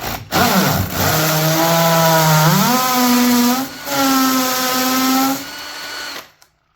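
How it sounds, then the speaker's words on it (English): A power drill whines loudly and close, its motor pitch rising as it bites into a wall, pausing briefly, then drilling again before stopping. "simply drill it in around that area"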